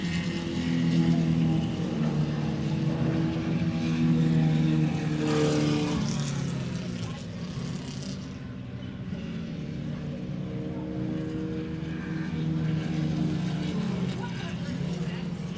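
Formula Vee race cars coming down the front stretch at Carolina Motorsports Park, a sustained buzzing engine drone that rises and fades as cars pass, heard under continuous race commentary.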